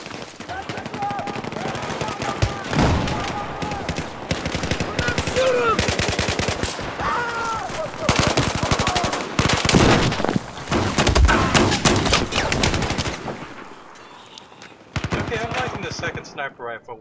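Battlefield 4 gunfire crackles in dense, rapid automatic bursts with scattered heavier shots, loud and nearly continuous, dropping briefly before a final burst.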